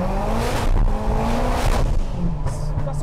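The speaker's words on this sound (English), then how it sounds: "That engine is like dialed to 10, isn't it?" A 502bhp Ford Fiesta ST150 engine pulling hard under heavy acceleration, a loud, close, sustained roar with a rising pitch that barely lets up, with no talk over it.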